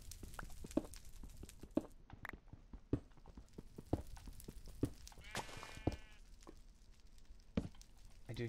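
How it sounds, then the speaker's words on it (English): Sheep bleating in Minecraft, several short calls spaced through the scene over soft clicking and block-breaking game sounds, moderately near. "I do hear sheep, that's a good sign."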